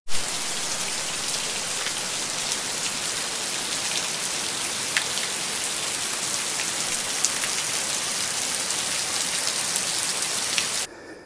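Heavy rain pours down steadily and runs off in a dense, unbroken hiss, close and loud throughout, with scattered sharper drops standing out before it cuts off near the end.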